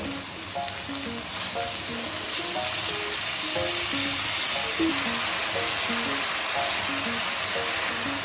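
Eggplant pieces, soaked in salt water, frying with browned onions in a pan make a steady, dense hiss that runs without a break, with a simple melody playing along in the background.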